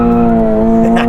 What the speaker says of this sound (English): That was a really good drift.